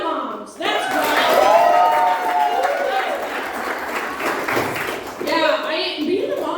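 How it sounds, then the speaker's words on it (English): Audience at a comedy club show clapping and cheering for the mothers in the crowd, a dense, steady wave of applause with whoops that fades briefly before a comedian's voice returns. "now everyone who's not a mom, clap for the moms"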